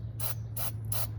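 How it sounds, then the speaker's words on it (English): Three short aerosol bursts of penetrating oil hiss sharply onto the transmission drain plug of a Toyota Camry with a U250E transmission, each spray lasting a fraction of a second over a low steady hum. "I'm gonna spray this a little bit with penetrating oil"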